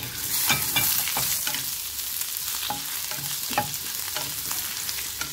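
Chopped ginger and garlic sizzle steadily in hot oil for Korean fried chicken, with scattered scrapes and clicks of stirring over a continuous close frying hiss.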